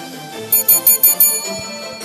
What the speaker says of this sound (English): when you're here, the bell sound,